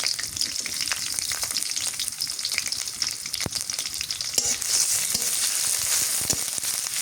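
Green chilies and chopped onion sizzle and fry in a hot pan in a village kitchen, a continuous crackling sizzle with occasional sharp pops and stirring scrapes, close and fairly loud.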